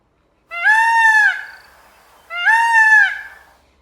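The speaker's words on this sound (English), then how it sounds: "I hear a peacock yelping in my ear." A peacock gives two loud, close, piercing yelping calls, each lasting about a second, with a short pause between them and nothing else heard.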